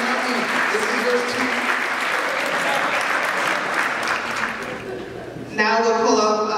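A dense, steady roar of audience applause fills a Bronx Civil Court induction ceremony for a judge, holding evenly for several seconds before a voice takes over at the end.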